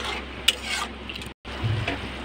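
Chili powder frying with ginger, garlic and mustard paste in a pan for a cashew mustard fish dish, a soft steady sizzle with a few stirring scrapes and a brief break partway.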